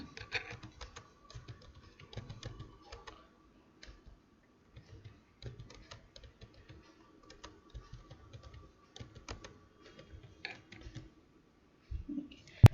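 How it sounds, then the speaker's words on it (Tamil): Narration typed on a computer keyboard into Tally Prime accounting software: quiet, irregular keystroke clicks in short bursts, with occasional louder taps, close by and without talk. "நரேஷன் டைப் பண்ணிவிட்டு சேவ் பண்ணிக்கிறேன்"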